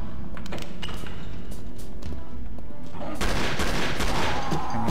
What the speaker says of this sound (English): Ah, we got a machine gun.